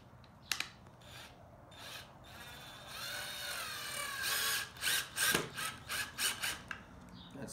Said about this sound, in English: now we're going to drill it and connect the dowel to the actual board